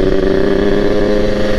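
A Kawasaki Ninja motorcycle fitted with a Super KIPS block holds a loud, steady engine note with a buzzing harmonic tone and no breaks.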